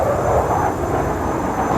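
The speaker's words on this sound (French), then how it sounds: "Au-dessus de moi, il y a la patrouille des Russian Knights qui évolue." Russian Knights Sukhoi Su-27 jets roar overhead during a display at the 2023 Dubai Air Show, a loud, steady, broadband rumble with no pauses.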